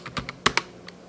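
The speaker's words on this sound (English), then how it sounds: "Let me type general." A few quick keystrokes on a computer keyboard, close and crisp, irregular taps over about a second.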